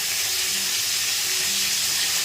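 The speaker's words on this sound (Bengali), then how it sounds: "এটা ভাজা হচ্ছে, ভাজা হোক।" Bata fish frying in a pan gives a loud, continuous sizzle and hiss, steady from start to finish with no talking.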